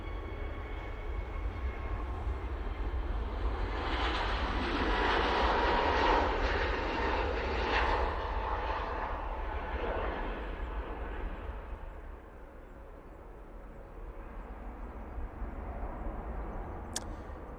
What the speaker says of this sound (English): Using the A321neo for this flight.